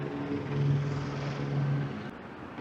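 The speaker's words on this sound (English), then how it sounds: "And that helicopter's going at it up there." A helicopter's steady engine drone with a low rhythmic rotor throb, moderately distant overhead at night, fading slightly near the end.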